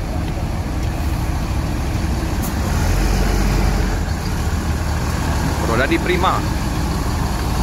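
Arianto bus with a Patriot body pulling away from a bus pool in Ciawi, its engine rumbling steadily and close by under people talking, with a short brake hiss or squeal near the end.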